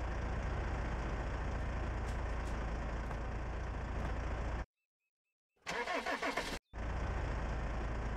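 An engine turns over and settles into a steady mid-pitched idle on a vehicle in the survival game Ocean is Home, continuous and fairly loud, with a brief dropout to silence partway and a burst of hissing noise before the running resumes.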